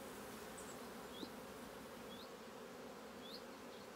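Honeybees hum in a continuous, even drone around hive frames of bees and brood in an apiary, with a few louder individual passes close by and no talking.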